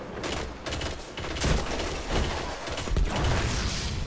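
Gunfire in Destiny during Crucible multiplayer gameplay, a loud, dense stream of rapid shots and mechanical clatter running without a break.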